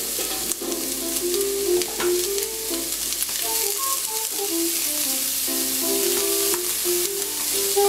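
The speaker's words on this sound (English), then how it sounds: "Saute the peppers and onions about 5 minutes until golden and translucent." Chopped peppers and onions sauté in a pan for stuffed peppers, giving a loud, steady sizzle throughout, with occasional stirring scrapes and faint background music.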